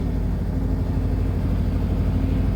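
A Sharp ES-M7000P-GG washing machine on a fast spin, giving a steady, droning low hum with no change in pace and no voices.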